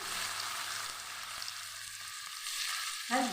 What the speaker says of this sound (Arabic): وبعد ما سخنوا هننزل كده بمكعبات الفراخ الاول